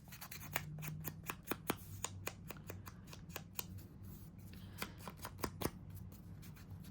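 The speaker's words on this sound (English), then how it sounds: "So I'm just trimming off the folder part of it." Scissors trim off part of a paper pattern, giving a close run of crisp, rhythmic snips and slicing crunches over a faint low hum.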